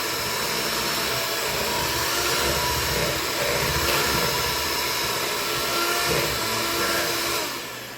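An electric mixer beats carrot cake batter in a bowl, a steady whirring motor hum running continuously at moderate volume, with no voices, and trailing off slightly at the very end.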